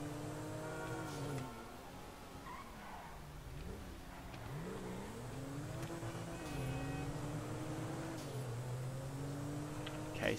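A car in GTA V drives down a road with a steady engine drone whose pitch rises and falls through gear changes and revving. The engine stays fairly faint throughout and no one speaks.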